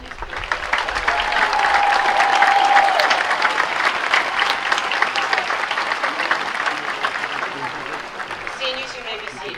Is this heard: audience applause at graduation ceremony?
yes